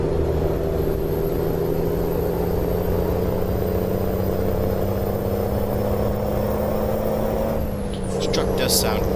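Loud, steady truck engine drone in American Truck Simulator holding a constant low rumble with a faint whine above, easing off near the end as brief clatter sounds; no talk over it.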